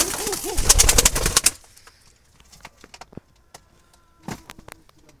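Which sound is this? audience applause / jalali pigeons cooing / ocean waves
jalali pigeons cooing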